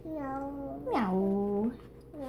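A small child imitates a cat's meow, producing one clear drawn-out rising and falling 'miau' close to the microphone after a short spoken prompt.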